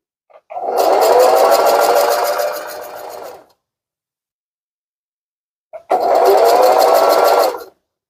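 A sewing machine backstitching a fabric scrunchie tube runs in two loud, close bursts of rapid whirring, about three seconds and then two seconds long, separated by a silent pause.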